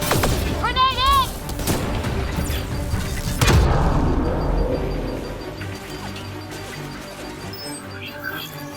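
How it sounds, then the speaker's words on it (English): A grenade goes off in the shooter game Mass Effect Andromeda, a single heavy boom midway through amid clattering combat noise, with a voice speaking early and game sounds trailing off afterward. "Grenade in!"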